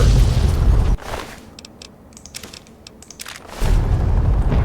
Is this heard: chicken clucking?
no